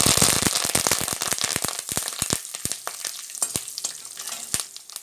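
Dried red chillies and curry leaves sizzle and pop sharply in hot oil, dense crackling at first that thins to scattered pops as the frying settles.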